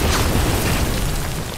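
A grenade blast in a D-Day themed video game: a broad, rumbling boom that fills the short moment and then slowly dies away, with no voices over it.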